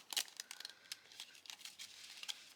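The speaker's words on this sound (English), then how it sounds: "we're gonna just give it a quick shuffle" A stack of trading cards gets a quick shuffle, giving crisp papery flicks and crinkly rustles in quick irregular bursts, close up but quiet, with no talking.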